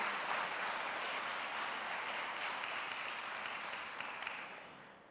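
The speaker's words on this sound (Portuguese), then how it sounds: "Aplauda o nome do Senhor Jesus" Steady applause from a church congregation fills the whole stretch, a dense even patter of many hands that holds at one level and tapers slightly at the end, with no talk over it.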